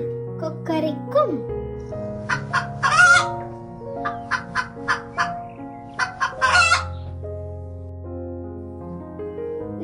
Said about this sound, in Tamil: கோழி கொக்கரிக்கும்,